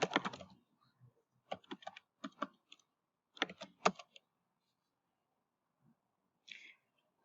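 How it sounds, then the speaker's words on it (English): Short bursts of computer keyboard typing in Word, quick close key clicks grouped in a few clusters separated by silence, with a faint click near the end. "click below the table and hit enter 3 times. And then type last updated"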